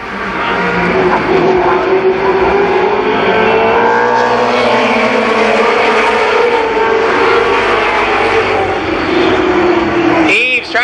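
Race cars roar past at Columbus Motor Speedway during the 1991 Nuckles Memorial, a loud continuous engine drone with rising and falling pitch, under a race announcer calling positions over a PA.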